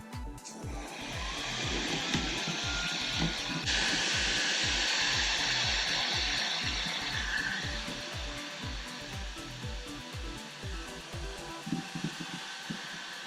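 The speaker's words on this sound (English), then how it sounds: "I'm gonna heat shrink this guy up." Heat gun blowing a steady, loud airflow hiss while shrinking heat-shrink tubing over a small wire union, with a sharper, brighter roar kicking in partway through and holding; no talking.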